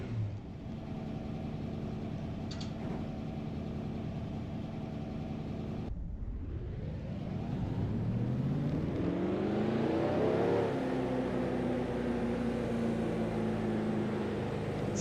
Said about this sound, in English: start your engines.